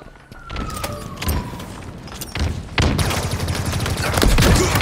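Gunfire in a Halo game as a Spartan, dense rattling shots and impacts building into a loud, continuous fusillade that intensifies toward the end, close and heavy.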